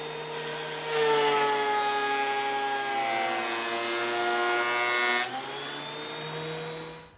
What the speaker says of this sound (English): a quick run through the planer to flatten both sides